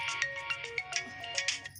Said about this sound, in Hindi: किसका फोन आया है?